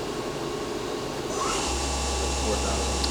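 A Fadal VMC 4020FX vertical machining center's spindle runs at 1500 RPM with a steady whine and hum. A deeper drone joins partway through, all close and continuous.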